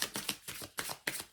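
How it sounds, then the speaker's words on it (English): Tarot cards are shuffled close up in quick bursts, several crisp riffling swishes in a steady rhythm, fairly quiet and alone. "I'm gonna keep shuffling."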